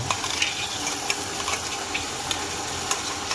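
Onion and ground masala sauté for village-style chicken in a kadhai, a dense close sizzle with small ticks and scrapes from stirring throughout.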